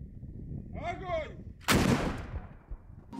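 A ZiS-3 WWII field gun, 82 years old, fires one loud, sharp blast that rolls into a long echo. A brief whistling tone comes just before the shot.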